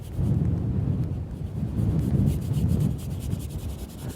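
A brush scrubs paint onto canvas outdoors during plein air painting, giving a continuous close, coarse rubbing with uneven strokes and no talk.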